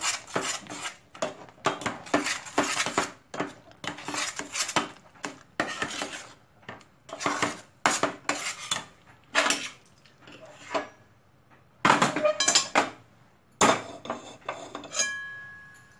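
A spoon clatters and scrapes against a pan while creamy wheat pasta sauce, milk thickened with pepper and salt, is stirred; repeated close metallic knocks and clinks come in irregular bursts with brief pauses.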